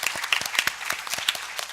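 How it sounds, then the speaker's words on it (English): A short round of clapping from an audience at an English debate contest, with distinct individual claps close by, rising and falling unevenly over a couple of seconds. "let's have one more round of applause for our debaters,"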